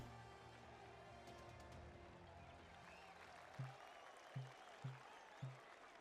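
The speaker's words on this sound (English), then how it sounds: "This crowd is going wild for something." A crowd in the TGC Tours golf video game claps and cheers steadily in the background, followed by several short thumps near the end, with no one talking.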